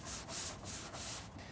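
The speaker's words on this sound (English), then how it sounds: "Throw a nice stiff broom in the mix." Stiff broom scrubbing a timber deck during deck prep, a steady run of coarse bristle rubbing strokes in rhythmic pulses roughly every half second, close and fairly loud with no talking.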